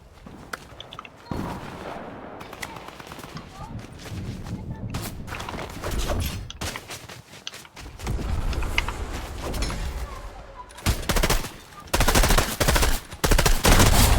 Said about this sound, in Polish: Krzysiek się strzela